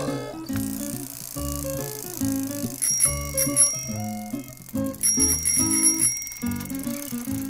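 A bicycle bell rings in a few quick bursts of bright dings, clear and close, over a bouncy musical backing.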